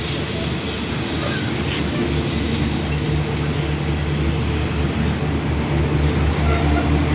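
Express train No. 109 arrives at night at Nakhon Lampang station in Thailand, a loud continuous rumble of engine and rolling wheels close by, steady throughout.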